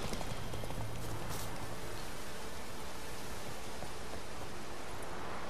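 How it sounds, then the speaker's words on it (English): Horse hooves in The Witcher 3 video game: a steady galloping clatter runs throughout, set in a dense wash of broadband noise. "My beautiful bug-eyed horse."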